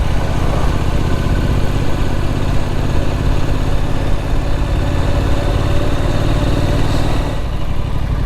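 A Triumph Street Scrambler motorcycle engine drones loud and steady while riding, with a constant mid-pitched rumble that never breaks. Rushing wind sits beneath it and eases slightly near the end.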